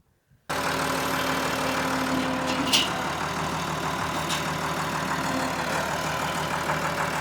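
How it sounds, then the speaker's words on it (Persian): A tractor engine idles steadily at close range, with a low even drone, while it powers the hydraulic pickup jack of an RSA SB96⁺ baler being raised and lowered in a farm setting. "تراکتور رو روشن میکنیم و پیکاپ رو بالا پایین میکنیم"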